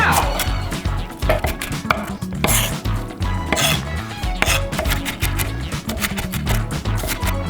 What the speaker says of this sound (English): let me do some chopping action, okay? I'm doing a rough chop here